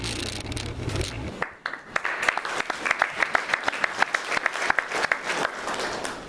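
Audience applause at a military ceremony for a lieutenant colonel, a steady wash of many hands clapping with sharp individual claps standing out, sustained throughout after a brief lull near the start.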